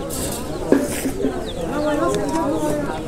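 Racing pigeons, including a blue king, at a busy pigeon market give low, rolling coos close by, mixed with the murmur of people talking around the cages.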